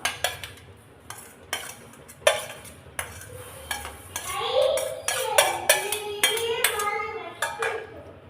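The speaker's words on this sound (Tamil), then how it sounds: "இப்போ நம்ம வதக்கி வச்ச வெங்காயம்லாம் இந்த மாவில் சேர்த்துடலாம்" Sautéed onions being mixed into kara paniyaram batter in a bowl, with a series of sharp spoon knocks against the rim followed by a rhythmic run of wet stirring and scraping, close and fairly loud.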